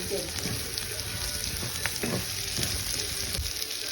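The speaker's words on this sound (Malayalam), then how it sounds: "അടുത്ത നമുക്ക് പച്ചമുളക് ഇട്ട് കൊടുക്കാം." Green chillies frying in a pan with beef heart roast cooking, a steady close sizzle with a few sharper crackles and stirring scrapes.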